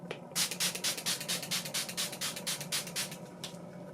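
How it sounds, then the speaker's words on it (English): Rapid successive pumps of a makeup setting spray bottle misting, a quick run of about a dozen hissing sprays close by. "I'll just go ahead and set everything with my Makeup Mist and Fix setting spray"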